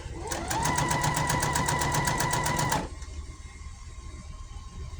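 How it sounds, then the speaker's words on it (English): Electric sewing machine stitching around the edge of a handmade gnome wig, a rapid steady mechanical whir with fast needle ticks running for about two and a half seconds, then stopping abruptly into quiet room tone. "I'll sew that all the way around to where they meet"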